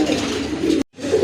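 Domestic pigeons, a pair of boot-beaked Giasulli birds, coo in a low, continuous rolling murmur close by, broken by a brief silent gap near the end before cooing resumes.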